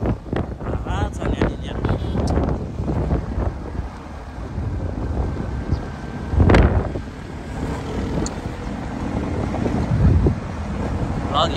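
Cold wind blows off a lake in the Nepali hills, buffeting the microphone in continuous loud gusts with a sharp burst midway, while water laps faintly beneath the roar.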